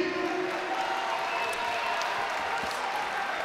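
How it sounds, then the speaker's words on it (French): Spectators applaud in a boxing hall as a super-middleweight bout opens its first round, a steady, fairly distant wash of clapping and crowd noise with no voices rising above it. "On les applaudit"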